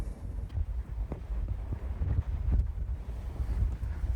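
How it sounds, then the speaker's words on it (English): Strong gusting wind buffets the microphone near a fast-moving, wind-driven wildfire in open farmland around Englewood, Kansas, producing a continuous rough, low roar that rises and falls throughout. "Big winds right there."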